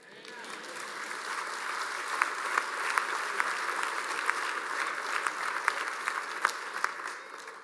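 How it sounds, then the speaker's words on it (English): Morning plenary congregation claps after a prayer, a soft wash of applause building and holding with a few sharper individual claps standing out, fairly distant and even. "clap your hands and shout amen."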